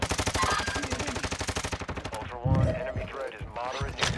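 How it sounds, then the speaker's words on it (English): Automatic gunfire from a video game match on Ashika Island bursts rapidly and loudly for about two seconds, then gives way to a talking voice over quieter game sounds. "Oh, he's shooting at me."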